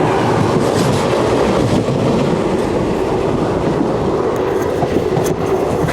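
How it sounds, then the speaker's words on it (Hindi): Sarnath Express, train 15159 from Chhapra to Durg, rumbles past steadily on the opposite track at Ghazipur City station, its loud, continuous rolling roar with a faint clickety-clack of wheels lasting throughout. "ठीक सामने से सारनाथ एक्सप्रेस आ रहा है"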